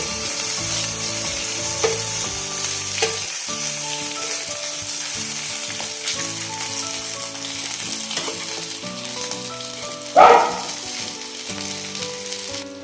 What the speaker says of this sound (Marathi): सर्व वाम त्यामध्ये तव्यामध्ये परत ठेवले आहे तवा गरम असल्यामुळे ते आणखी कुरकुरीत होईल